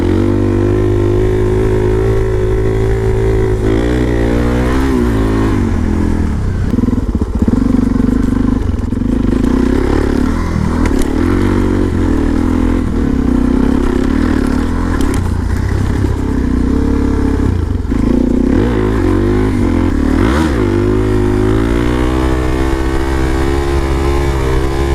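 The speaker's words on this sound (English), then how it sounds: "This is a 2016 DRZ400SM SuperMoto" A 2016 Suzuki DRZ400SM supermoto single-cylinder engine runs loud and close, its low throbbing note rising and falling as the rider revs and rides, with brief throttle blips and no speech.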